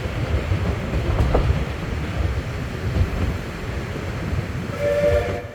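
A Festiniog Railway steam train rumbles along, a steady close chugging roar of carriages on track, with a short whistle tone rising near the end.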